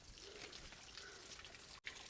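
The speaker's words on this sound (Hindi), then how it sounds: "इधर दूसरी तरफ और तेज़ झरना हमें सुनाई दे रहा है" Natural waterfall spilling out of mountain rocks near a cave, a soft continuous splashing rush with light dripping detail, moderately distant, briefly cut by a short dropout near the end.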